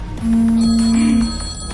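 A phone rings in the video game Detective Max: one steady, bright electronic tone that holds for about a second over a faint game background, then fades.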